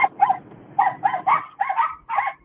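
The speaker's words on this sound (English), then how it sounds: "is that a ghost dog I'm hearing, or are y'all hearing that too?" A dog barks in a quick series of about seven sharp yips with short gaps between them, clear and fairly close.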